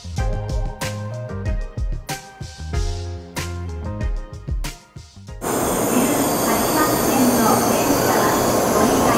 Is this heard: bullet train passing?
yes